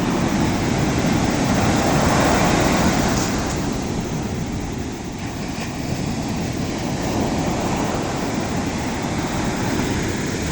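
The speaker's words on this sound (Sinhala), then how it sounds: "බලාගන්න කල්ලඩි වලට එන ලස්සන රැල්ල." Ocean waves breaking on the long beach at Kalladi in Sri Lanka, a loud continuous roar of surf with wind noise buffeting the microphone.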